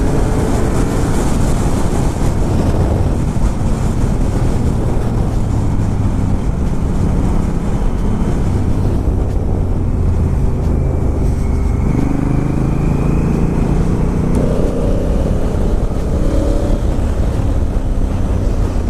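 A Ducati Monster 1200S rides along with other motorcycles, its engine drone loud and continuous, heavily mixed with wind buffeting the microphone and no talk.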